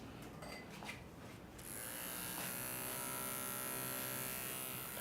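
A barber's electric hair clipper switches on partway through, its bright steady buzz starting close and continuing evenly after a few quieter rustles at the start.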